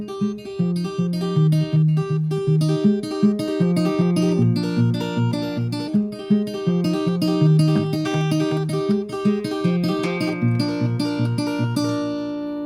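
Fingerpicked acoustic guitar playing, a steady rolling pattern of bass and treble strings repeating evenly, close and clear with no voices over it.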